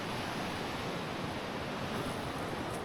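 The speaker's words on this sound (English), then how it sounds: "the water is really running past" A stream rushes past a campsite sleeping area in a steady, even hiss of running water, fairly quiet and unbroken, with no other sounds on top.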